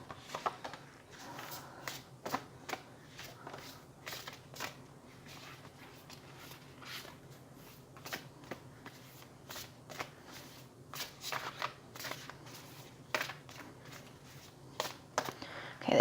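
A deck of cards shuffled repeatedly by hand, with quick riffling bursts and soft flicks recurring in uneven rhythm, close and fairly quiet, with no talking.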